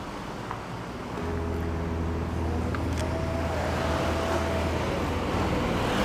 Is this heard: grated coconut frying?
no